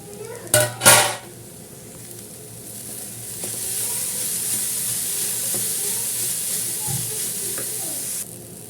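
A lid comes off a pot of Kerala thoran with two sharp metallic clanks, and then a steady sizzle and hiss of the cooking vegetables continues close by.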